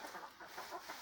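Chickens cluck softly beside a small 4 by 8 foot coop attached to a covered run, a faint, continuous burble of calls with no talking.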